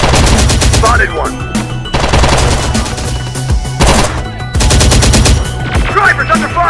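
Gunfire in the Terminator Dark Fate Defiance video game: loud bursts of rapid automatic fire come in dense volleys broken by short pauses, with faint game voices beneath.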